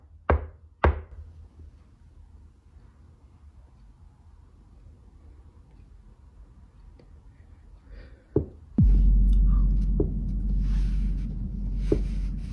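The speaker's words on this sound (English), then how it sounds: "That's a solid knock." Solid knocks inside a house, a couple of thuds early on, then another knock before a loud rumbling rush of noise with a few further taps.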